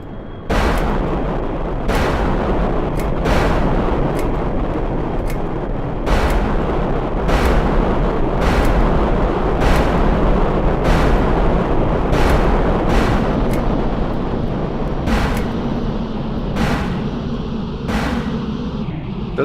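Cruise missiles launch from a heavy fighter plane in a video game with a string of loud, booming blasts spaced roughly a second or two apart over a constant rumbling roar, with no talking.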